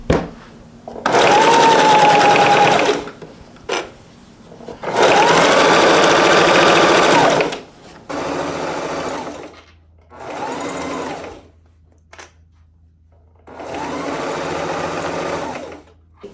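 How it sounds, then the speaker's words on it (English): Sewing machine stitching vinyl for a grocery bag strap, running in five loud, close bursts of steady mechanical whirring separated by short pauses. "now that we have it all pinned up, we're gonna sew it"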